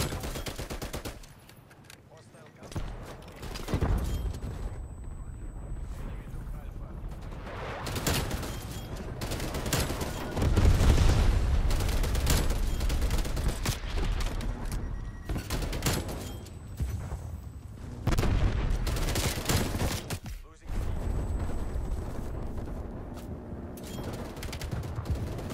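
Rapid bursts of TEC-9 gunfire in Call of Duty Cold War, loud repeated automatic volleys with short pauses between sprays and explosive booms mixed in.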